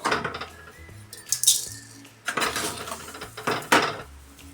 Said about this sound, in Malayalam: അരി വറുത്തതൊക്കെ ഇങ്ങനെ കോരിയെടുക്കുകയാണ് കേട്ടോ